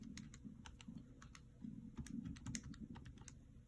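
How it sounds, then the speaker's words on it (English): An equation is keyed into a calculator keypad as a quick run of faint, close, light plastic taps in an uneven rhythm, with no voices. "go to my calculator, clear out whatever's in here, type in my equation"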